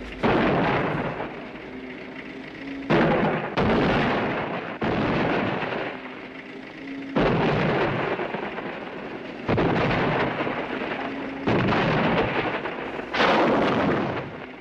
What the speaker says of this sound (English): Bazooka teams are ready.